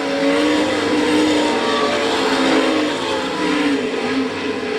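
Sprint cars racing in a heat race at the All Star Circuit of Champions Winternationals in Gibsonton, Florida, loud, sustained engine roar with shifting pitch as the cars work around the dirt track, steady throughout.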